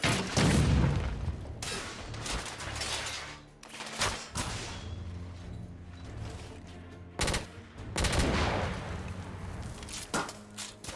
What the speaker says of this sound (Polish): Dobra, wybuchło teraz.